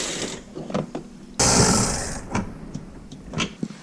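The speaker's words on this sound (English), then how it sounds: "All you have to do is just remove the 2 10mm bolts" Ratcheting wrench spinning out a 10mm bolt from the bumper of a 2018-2023 Ford Mustang, a close buzzing ratchet burst with scattered clicks and clanks around it.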